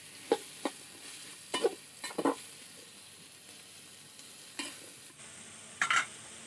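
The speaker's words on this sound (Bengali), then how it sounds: "কেটে রাখা বরবটিগুলো দিয়ে দিচ্ছি, দিয়ে আলু পেঁয়াজের সাথে আমি ভালো করে মিশিয়ে নিচ্ছি" Chopped cowpeas are stirred into frying potatoes and onions in a pan, a quiet sizzle broken by scattered spatula scrapes and clatters.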